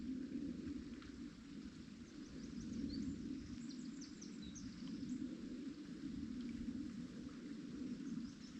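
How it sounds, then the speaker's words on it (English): Stream flowing steadily behind a wild camp at Loch Katrine in Loch Lomond and the Trossachs, a continuous low rushing wash with faint birdsong chirps scattered above, soft and constant throughout. "there's a stream behind me"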